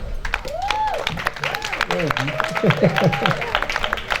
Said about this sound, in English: I want you also to help me give applause to the choreographer